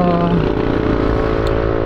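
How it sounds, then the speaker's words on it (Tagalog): A Yamaha NMAX scooter engine with a JVT V3 pulley and 11g flyballs hums steadily and loudly at close range throughout, with no clear talk over it. "yung sound ng ating motor na gamit is medyo familiar"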